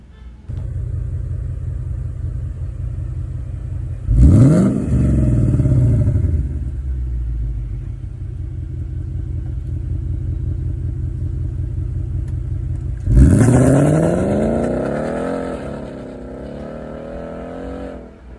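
A 2019 Ford Mustang GT 5.0 V8 engine idles with a deep rumble, then revs loudly twice, each rev rising sharply and settling back to a throaty idle.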